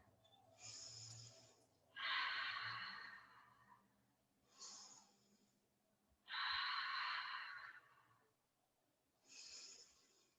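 Slow, deep breathing during a yoga pose, alternating soft inhales and stronger, louder exhales in a steady rhythm, close to the listener with no talking.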